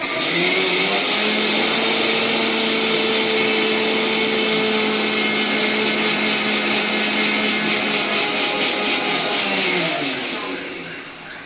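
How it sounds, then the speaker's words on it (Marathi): A loud, steady motorized whir of an electric mixer grinder grinding sugar into powdered sugar, with a high grinding hiss, winding down at the very end. "मिक्सरला बारीक करते म्हणजे त्याची पिठी साखर तयार होते"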